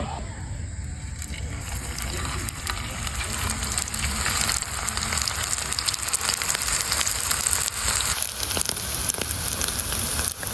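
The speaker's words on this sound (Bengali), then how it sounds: "তো এখন আমি ডিম আলুর চপগুলোকে ভেজে নেব।" Egg and potato chops frying in hot oil, a continuous dense sizzle and bubbling that swells slightly partway through and holds steady at close range.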